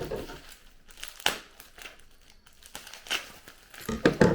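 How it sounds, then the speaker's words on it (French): Small bubble wrap papers crinkling up close in irregular bursts of rustling and crackling, with short quiet gaps between handlings. "Des petits papiers bulles."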